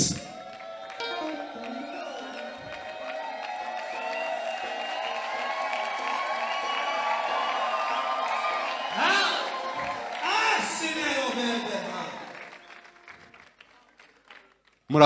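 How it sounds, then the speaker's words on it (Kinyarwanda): Women in a church congregation ululating together with cheering and clapping, a loud sustained crowd sound that swells and then fades toward the end. "Abamama kandi mwebwe murayazamura muvuza n'impundu"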